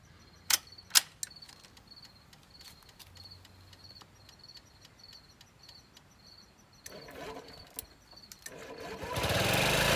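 A Honda Ruckus scooter with a freshly swapped fuel pump idles slightly high after its carburetor bowl fills, a steady buzzing drone with a few sharp clicks early on, and the engine rising louder and rougher near the end.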